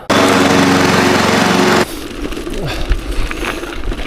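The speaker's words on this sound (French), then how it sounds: "avec la tondeuse qui tondait toute seule, robotisée" A robotic lawn mower cutting the grass of a football field gives a loud, steady motor drone with a harmonic whine for almost two seconds, then cuts off. Quieter outdoor rustling and wind follow.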